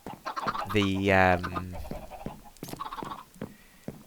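Video game chickens cluck and squawk in short bursts, one drawn-out call standing out, close and fairly loud, with someone briefly speaking alongside.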